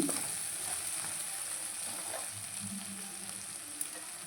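Onion masala frying in oil for a spinach dish, a steady low sizzle and bubbling, close and quiet, with a few faint stirring touches.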